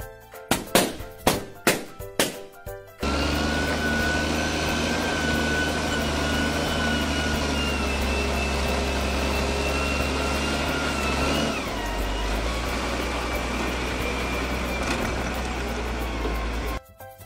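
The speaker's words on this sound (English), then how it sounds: "School bus." A school bus engine runs with a loud, continuous low drone that shifts to a lower, quieter hum partway through and holds for several seconds before cutting off.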